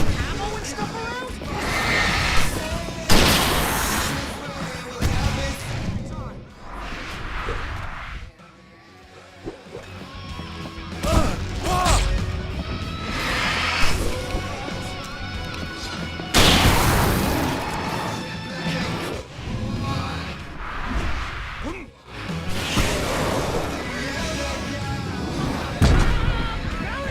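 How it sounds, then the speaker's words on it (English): Fireworks go off during a fight in Alan Wake Remastered, loud booms, bangs and crackling bursts coming one after another over about half a minute, mixed with gunfire and shouted dialogue. "I can set off more of the fireworks from here and help you out!"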